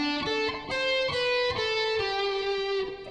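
Electric guitar picks a string-skipping exercise across the 2nd and 3rd strings, a steady run of distinct single notes with sharp attacks, played close and alone.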